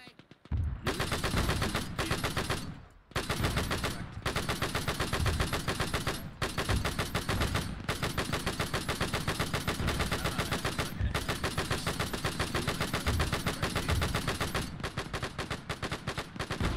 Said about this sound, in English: One more machine gun firing.